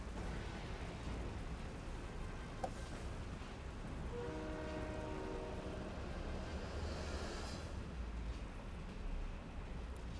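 Rumbling rail noise from a train in a first-person shooter's train level, a steady loud wash throughout with a brief horn-like tonal blast near the middle.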